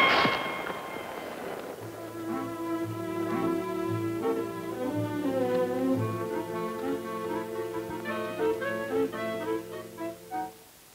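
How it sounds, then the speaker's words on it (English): A sharp gunshot bangs out in a 1953 television drama, followed by swelling orchestral music with no speech. "Some joker is shooting at me."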